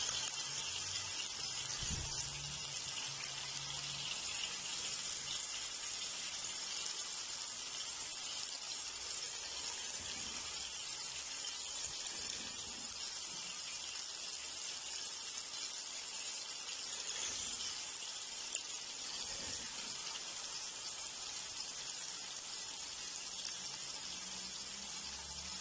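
Chicken masala frying over high heat in a pan, a steady broadband sizzle that holds evenly throughout, with no talk.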